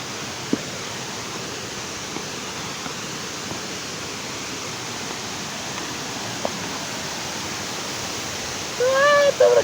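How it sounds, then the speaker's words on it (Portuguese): A waterfall pours in a steady, even roar throughout, with a few faint clicks over it and a short warbling tonal sound rising near the end. "Estamos na cachoeira,"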